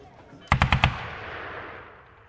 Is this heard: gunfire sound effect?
yes